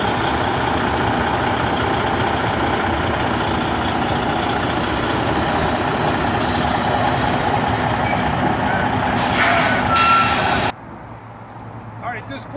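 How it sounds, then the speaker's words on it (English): A conventional semi truck and trailer idling and reversing, a loud steady diesel rumble that runs close for about ten seconds before cutting away to quieter background; no backup beeps stand out clearly. "So now I'm prepared to start backing my truck up in my trailer."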